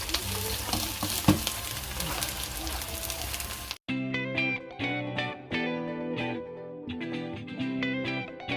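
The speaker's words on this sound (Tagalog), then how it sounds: "nagluluto ako ng itlog" An egg fries in a pan with a loud, crackling sizzle that cuts off abruptly partway, followed by background music.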